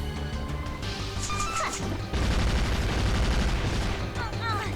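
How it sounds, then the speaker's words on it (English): An enemy exploding into several damaging pieces in Shantae and the Pirate's Curse: a dense stretch of loud crashing, blasting game effects with rapid gunfire-like bursts and a few high chiming pings, continuous throughout. "Hit this thing a few times and it will explode into several parts."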